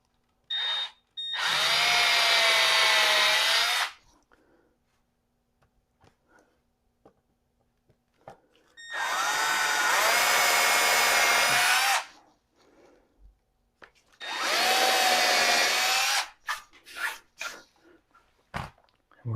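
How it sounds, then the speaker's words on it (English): Power drill boring holes for Lazy Susan turntable hardware, three long loud whining bursts of roughly three seconds each, separated by pauses with small clicks and handling knocks, close up. "I have a drill bit, and I am going to drill out my holes."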